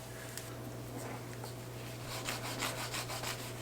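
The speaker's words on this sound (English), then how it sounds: "we are currently trimming the fat cap" Soft rubbing and rasping as a knife trims the fat cap off meat in a cooking video game, faint scraping strokes that grow into a quicker rhythmic sawing near the end.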